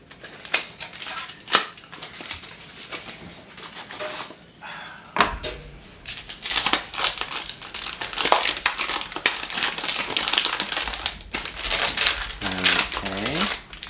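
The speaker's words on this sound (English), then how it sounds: "here's a little parchment paper" Parchment paper is unfolded and handled while baking a pie, giving a series of sharp crinkles and crackles, sparse at first and then denser and busier, fairly close, with a person speaking at times.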